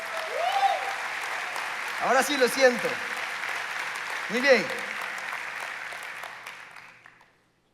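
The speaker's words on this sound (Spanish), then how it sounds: "¿Cuántos le pueden dar un aplauso al Señor?" A church congregation applauds during a sermon by a pastor, a continuous wash of clapping with a voice speaking over it, and the sound fades out toward the end.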